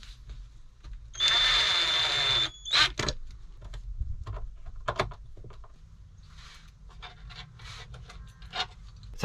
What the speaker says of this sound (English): So I'll just send a drill through those